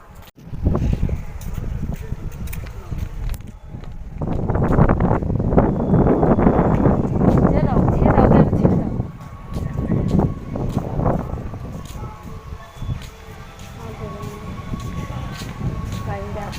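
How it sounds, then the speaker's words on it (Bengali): Strong wind blowing at an open outdoor spot at Kalna, buffeting the microphone in loud rumbling gusts, with people talking intermittently over it. "দেখো এই জায়গাটা খুব ঠান্ডা আর এই খুব হাওয়া দিচ্ছে"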